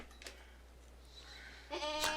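A goat held in a livestock chute for hoof clipping bleats twice, a short cry near the start and a louder, longer one at the end, with quieter handling noise between.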